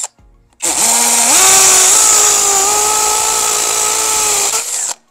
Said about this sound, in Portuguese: Agora eu deixei no 2 e vou fazer mais um furo aqui